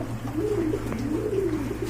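Pigeons coo in a soft, rolling, repeated murmur, close by and steady, with a low hum underneath and no voices.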